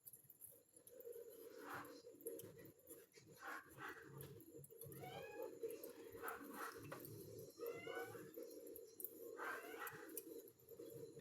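Persian cat meowing, a few faint rising mews spaced several seconds apart over a steady murmur of background noise, with some indistinct talk in the surroundings.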